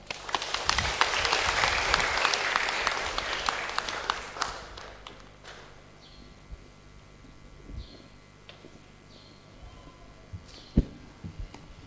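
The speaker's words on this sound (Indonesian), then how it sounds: "Kita berikan tepuk tangan." A church congregation claps at a Sunday service, with dense applause for about four seconds that thins into scattered claps and fades into quiet room noise with a few faint knocks.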